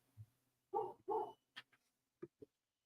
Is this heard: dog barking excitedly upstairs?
yes